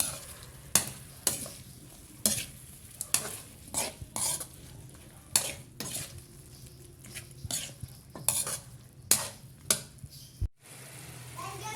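Four shrimp sizzling in a pan alongside chicken and chicken feet, a soft continuous fry broken by repeated sharp clinks and scrapes of a utensil stirring, close, ending abruptly.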